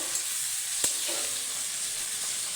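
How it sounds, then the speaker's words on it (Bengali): Chopped tomatoes sizzle steadily in hot oil in a pan over onions already fried red, while preparing a pangas fish tel kai curry; a continuous close hiss with one brief stir clink. "টমেটোটা দিয়ে ভালো করে ভেজে নেব"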